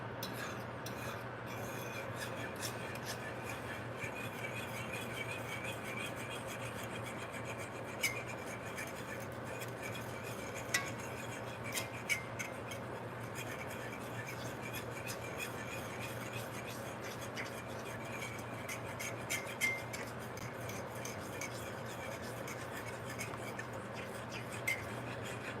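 A spatula swipes and stirs gravy in a pan, giving a continuous rhythmic rasping scrape against the pan bottom with occasional sharper clinks, at moderate volume and without speech.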